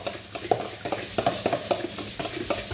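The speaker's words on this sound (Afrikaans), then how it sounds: "Terwyl sy daai eier klits" An egg being whisked by hand on a farm while pork chops are prepared, with fast irregular clicks and taps of a utensil against a bowl, faint and close, without speech.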